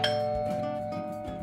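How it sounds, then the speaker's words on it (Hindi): An apartment doorbell rings once with a bright chime, its tone ringing on and fading gradually, close and clear with no voices. "तभी मेरे अपार्टमेंट की डोरबेल बजी।"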